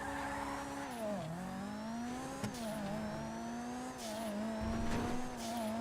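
Sports classic car driving in GTA Online, with a steady engine drone that rises and dips as the car shifts through gears and accelerates, alone without talk, moderately loud and close.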